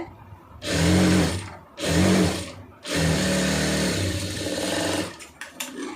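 A sewing machine stitches a sleeve armhole joint, its motor whirring in three close, loud runs: two short bursts and then a longer steady run that trails off.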